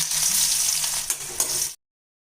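Onion sizzling in hot groundnut and sesame oil with mustard seeds, urad dal, fenugreek and dried red chilies for a garlic kuzhambu tempering, a steady close hiss with stirring scrapes that cuts off abruptly.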